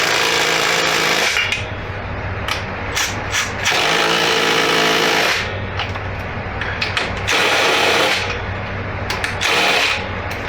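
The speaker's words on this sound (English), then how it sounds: "this is a carpenter style impact for wood screws and such" A carpenter-style impact driver meant for wood screws works the linkage bolts on a Yamaha WR250F dirt bike, giving repeated loud bursts of rapid hammering whir with short pauses between them, close by and with no talk.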